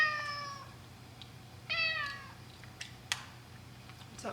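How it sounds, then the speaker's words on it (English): A house cat meows insistently for attention, two long drawn-out calls near the start and middle followed by a couple of short chirps, close and clear over a steady low room hum. "Wow, my cat really wants attention."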